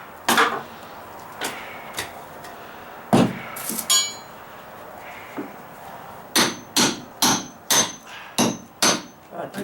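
A hammer strikes a bolt to split a stone block: a few scattered sharp metallic blows, then a steady series of about seven ringing, evenly spaced strikes, close and clear with no talk.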